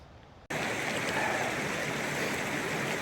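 Water rushing steadily at a river crossing in the Cairngorms, a broad continuous wash that starts abruptly after a short quiet moment and stays loud and close.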